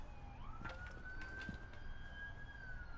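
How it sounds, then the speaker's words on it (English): A faint police siren wails steadily in the distance, its pitch sliding slowly up, under a low rumbling background. "You hear that police siren in the background?"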